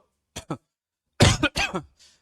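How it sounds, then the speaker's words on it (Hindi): Several coughs and throat-clearing sounds: two short ones, then a pause, followed by a louder, harsher burst of coughing close to the microphone. "थोड़ा सा खांसी है"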